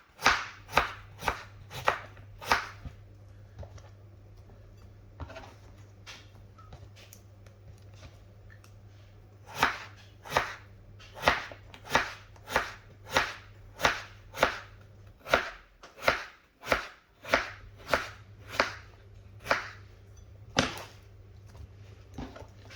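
Knife chopping potatoes for a Spanish tortilla de patatas on a board: crisp, evenly spaced cuts in quick runs, a pause mid-way, then longer steady series, close and distinct over a low hum.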